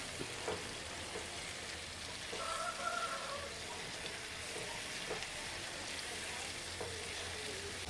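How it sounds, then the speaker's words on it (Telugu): Gongura chutney frying in oil in a home kitchen, a soft continuous sizzle with occasional faint stirring scrapes, quiet and close, with no voices over it. "మీరు కూడా ఆయిల్లో బాగా ఇలా వేయించుకోవాలి పచ్చివాసన పోయేంత వరకు"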